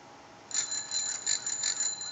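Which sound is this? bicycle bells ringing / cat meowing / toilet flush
bicycle bells ringing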